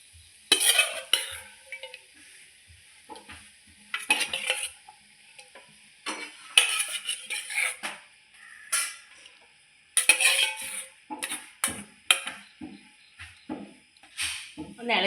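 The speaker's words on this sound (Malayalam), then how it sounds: "ഒന്ന് ഇളക്കി കൊടുക്കുക." A spoon stirs sardine curry with kudampuli in a pot, giving repeated scraping and clinking strokes in irregular bursts separated by short quiet gaps.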